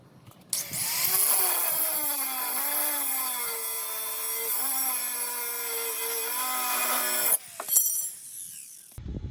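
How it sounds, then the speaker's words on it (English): An abrasive metal cutting wheel slices through rebar with a loud, close, high whine that shifts in pitch as it bites, running continuously for about seven seconds before stopping, followed by brief clatter. "this is a metal wheel, cuts right through metal like butter, really easily"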